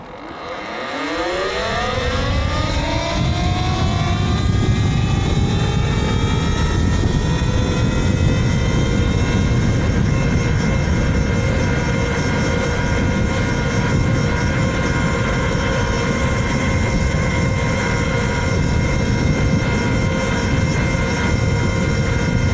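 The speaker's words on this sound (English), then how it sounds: "So here's a Talaria MX4 with a TC500, 11 kilowatts, stock battery, stock motor." A Talaria MX4 electric dirt bike with a TC500 controller, 11 kW, stock battery and motor, accelerates on a quarter-mile run, its motor whine sweeping steadily upward in pitch and then holding a loud, sustained high tone.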